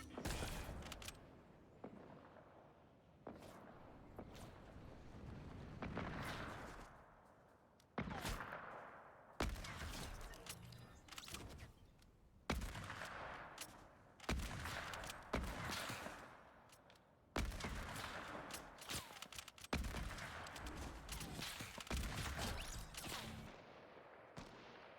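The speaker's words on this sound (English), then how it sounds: "Here are a few nice snipes." Sniper rifle shots in Fortnite, fired one at a time in sharp bursts spread across the stretch, each crack followed by a short decay, with game noise and explosive thuds in between.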